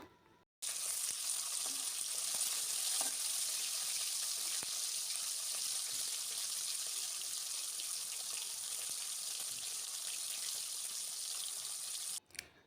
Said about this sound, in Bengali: তো আমি মাছগুলো ভেজে নিচ্ছি